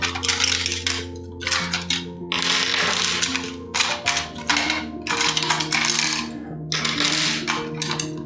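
Metal hand tools such as screwdrivers, hex keys and wrenches clatter and jingle in bursts as they are pulled from drawers, loud and close with brief pauses between rummaging.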